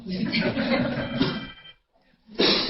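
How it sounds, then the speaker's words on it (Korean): A telephone rings during a church service, its repeated ringing heard under and between a preacher's amplified speech, then briefly alone before the talk resumes. "급한 전화인가 봐요."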